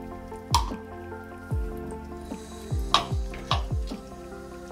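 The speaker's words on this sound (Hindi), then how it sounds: "यहाँ पर मैं थोड़ा सा इसमें पानी और डाल रही हूँ" Water is poured into a simmering paneer manchurian gravy in a cooking pot, heard as a series of wet drips and plops, about eight in all at an uneven pace, close and clear with no talking.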